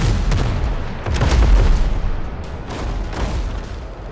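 Ship cannons fire a broadside in the naval battle game Windrose, sending out a dense run of heavy, overlapping booms that rumble on loudly throughout.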